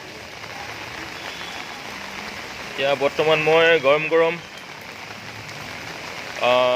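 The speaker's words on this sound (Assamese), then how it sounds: "আজি এসপ্তাহমানৰ পৰা নন ষ্টপ বৰষুণ দি আছে।" Steady rain patters and hisses throughout, with a person speaking briefly in the middle and again near the end.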